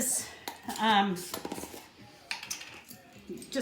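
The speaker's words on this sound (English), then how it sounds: "So we're going to mix all the dry ingredients together." Dry oatcake ingredients, including baking soda, are stirred together in a bowl, giving brisk clinks and scrapes of a utensil against the dish in short bursts, fairly close.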